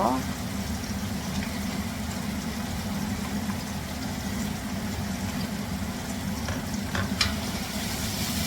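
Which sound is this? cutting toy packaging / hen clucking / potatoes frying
potatoes frying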